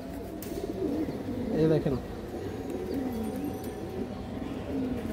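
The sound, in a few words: female pigeon cooing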